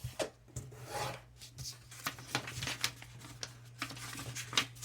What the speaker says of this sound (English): first you're going to fold the paper in half.